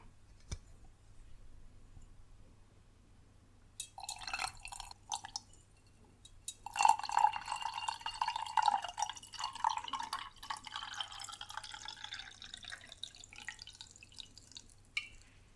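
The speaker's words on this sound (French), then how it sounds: "On va mettre de l'eau fraîche avec des glaçons." Fresh water poured over a few small reusable ice cubes in a glass, heard as close, quiet trickling with light clinks and drips that build midway and then taper off.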